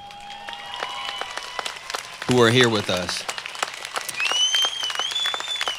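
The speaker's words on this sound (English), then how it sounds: "Let's give them a round of applause, too," A commencement audience applauds college staff with scattered claps and crowd noise, while someone speaks over the applause and it swells briefly midway.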